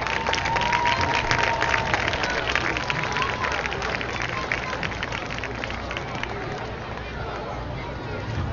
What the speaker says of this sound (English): a big round of applause for Nahom Kasai and Jessica Williamson